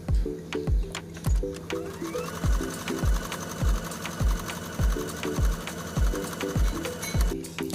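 Sewing machine stitching the inner leg seams of Barbie doll clothes, a loud rhythmic run of needle thumps in regular bursts with mechanical whirring between them.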